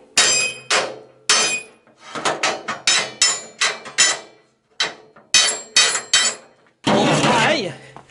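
A hammer drives a Peugeot 305 torsion bar into a Citroën Traction 11B, with a string of sharp metallic blows in uneven bursts, loud and close, ending in a denser clattering rattle.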